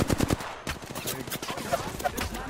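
Rapid gunfire in the game Apex Legends, a dense run of crackling shots in quick bursts over a busy, cluttered game soundscape.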